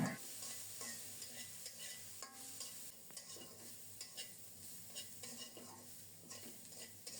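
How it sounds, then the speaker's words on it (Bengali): Chopped onions sizzle quietly in a pan after being added to frying fish, with regular scraping stirs and light clinks of a metal utensil against the pan, fairly faint throughout. "এখন দিলাম কুচানো পেঁয়াজ পেঁয়াজ সহ আরও কিছুক্ষণ ভেজে নেব"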